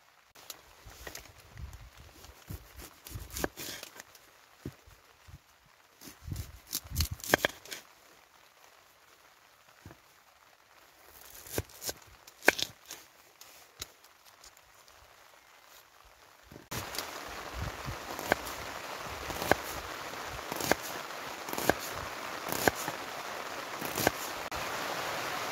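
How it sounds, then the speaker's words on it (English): Heavy rain falls on a wild summit campsite in Scotland, pattering unevenly on a tarp and tent. The drops sound soft and scattered at first, then settle into a denser, steady downpour. "as you can hear, the rain's on again and it's bucketing down"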